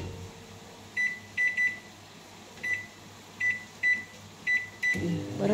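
A microwave oven hums steadily while warming food, and clusters of short electronic beeps from its keypad sound over the hum before a clunk near the end.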